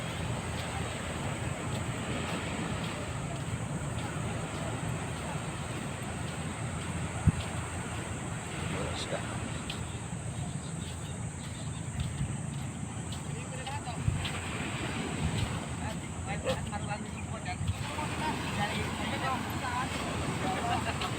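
Strong sea waves breaking on a beach where fishermen land their catch, a constant loud roar of surf and wind buffeting the microphone, with voices talking over it.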